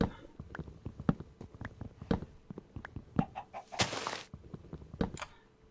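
A chicken in the video game Enemy Territory clucks in quick, uneven bursts, mixed with knocking thunks and a brief noisy rush near the end, fairly close and with no talk over it.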